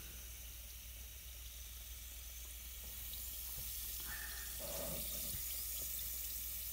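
Sodium carbonate reacting with vinegar gives off carbon dioxide with a faint, soft fizz and sizzle, rising slightly midway with a few small bubbly pops against a quiet background.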